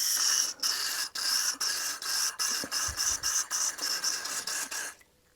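GT85 aerosol spray hissing in steady bursts onto a carburettor, broadband and close, with brief gaps between pulses before cutting out near the end.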